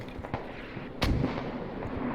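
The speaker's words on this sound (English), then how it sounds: "here comes that heavy artillery barrage" A heavy artillery barrage in a video game sounds as a series of distant booms and blasts, with one loud, close burst standing out midway over a rumbling background.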